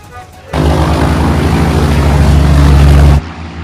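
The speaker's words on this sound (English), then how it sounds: "Airplanes!" Airplanes fly overhead in a historical war film, a loud, steady low drone of propeller engines that cuts in abruptly, holds for about three seconds and then stops.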